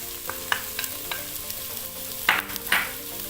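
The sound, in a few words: adding hoho to browned onions in electric pressure cooker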